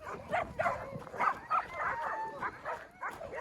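A Boxer and a pitbull bark and yip at each other in a yard, with overlapping excited barks and whiny yelps in a close, continuous scuffle.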